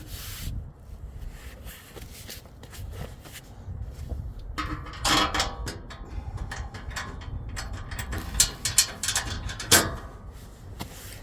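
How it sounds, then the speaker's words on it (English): A ratchet clicks in short, irregular runs as it tightens the spoiler bar bolts on a new-generation Ford Ranger, close up, mixed with rubbing and handling noises and no speech. "My trusty ratchet."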